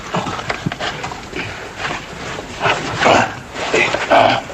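A horse's hooves clip-clop unevenly on the ground, several close steps mixed with shuffling movement and brief voices.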